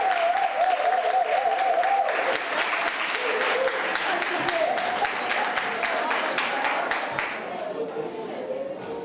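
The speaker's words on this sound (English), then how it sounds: "Put your hands together for our choir as they come." An audience at a school prize-giving ceremony applauds the choir as it comes on, steady dense clapping throughout with a voice talking or chanting beneath it, slowly tapering near the end.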